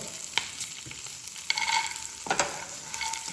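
Coriander and cumin seeds fry in oil with a light, steady crackle, punctuated by a few sharper stirring scrapes and bursts of sizzle near the pan.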